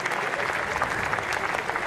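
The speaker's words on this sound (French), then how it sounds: "Voilà l'ovation de tout un public. Voilà, vous les applaudissez." A crowd at the French national road cycling championship in Brittany gives a dense, continuous ovation, steady and loud throughout.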